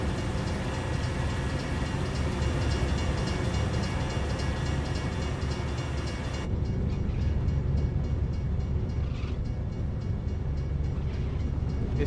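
A train rolls past in American Truck Simulator, a steady broadband rumble with a brighter wash of rail noise that dulls partway through, continuous and fairly close with no voices.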